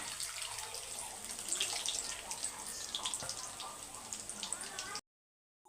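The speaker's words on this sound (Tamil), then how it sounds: "புளி தண்ணி சேர்த்துக்கலாம்" Steady splashing pour of tamarind water into a pot of curry, continuous and close, with small bubbling and clinking, stopping abruptly near the end.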